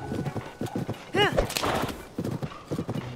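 Horse hooves clip-clop steadily in The Legend of Zelda: Tears of the Kingdom, with a short, bright whinny rising over the hoofbeats midway, all close and fairly loud within the game's background sound.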